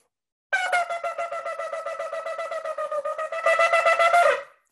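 Shofar blown in a sharp-tongued teruah pattern, a steady horn tone chopped into rapid evenly spaced staccato pulses, ending in a louder sustained stretch, close and alone.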